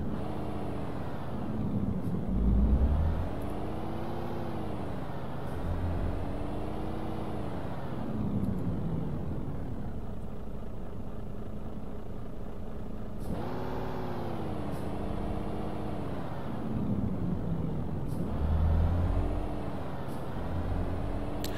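A truck drives in Euro Truck Simulator 2, its engine note rising and falling through the gears in repeated sweeps of revving, steady and fairly loud, with no talking.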